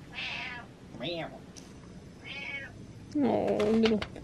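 A house cat gives several short meows, close and moderately loud, trading back and forth with a voice that answers in a meow-like tone near the end.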